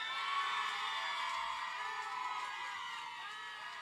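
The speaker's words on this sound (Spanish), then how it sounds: "¡Aplauso para Rihanna!" Crowd at a Nejapa contest event cheers and shouts in a steady, dense roar with no distinct claps standing out, sustained at an even level throughout.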